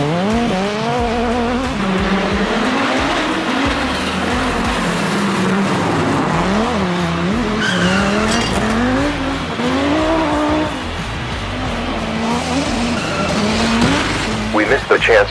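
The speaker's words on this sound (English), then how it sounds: "We hear the sound of engines." Race car engines at the start of a drift championship quarter final, loud revving and screeching tires with rising and falling engine pitch throughout, commentary voices under the roar.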